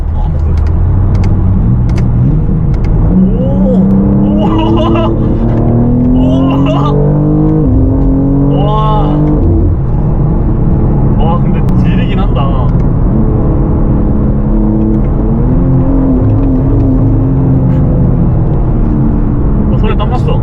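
A BMW M2 engine revs and accelerates loudly, its pitch climbing and dropping through gear changes, with people talking over the steady road rumble.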